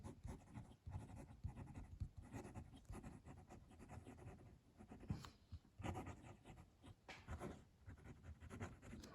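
A copper fountain pen with a Schmidt nib and copper-colored ink scratches across paper in close, very faint strokes that start and stop in an uneven rhythm, with no talking.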